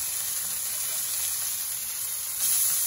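Blackened fish fillet sizzling on a grill just after being flipped, a steady, close hiss of searing oil and seasoning that swells slightly louder near the end, with no talking.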